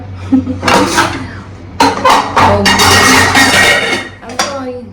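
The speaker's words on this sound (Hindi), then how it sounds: "इसके लिए मैं लूंगी ये वाली कढ़ाई" A metal kadhai (Indian wok) is pulled from among a pile of pots in a home kitchen, making several close metallic clanks and scrapes while someone talks.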